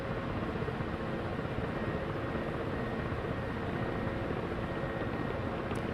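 Ka-50 Black Shark coaxial-rotor attack helicopter in Digital Combat Simulator, a steady broadband rotor and turbine drone holding at an even level throughout, with no voices over it.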